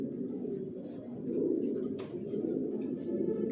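Racing pigeons in a loft coo continuously in low, throaty murmurs close by, swelling and easing over a few seconds, with a sharp brief flutter or click midway, no talk.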